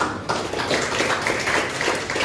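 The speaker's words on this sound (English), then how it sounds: "people can give an applause to those people also" Applause from an audience at a national youth sustainability conclave, a steady dense patter of many hands clapping together, moderately loud and continuous throughout, with no talking over it.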